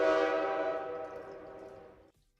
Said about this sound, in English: Where's the train soundboard? Hey, train.